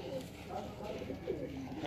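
Pigeons cooing on a rooftop loft, soft low warbling coos blending into steady background noise, faint and somewhat distant, with people talking nearby.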